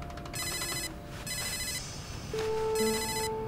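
A telephone rings in repeated electronic bursts, three short trilling rings with pauses between them, heard clearly in a quiet room before a steady tone sounds toward the end.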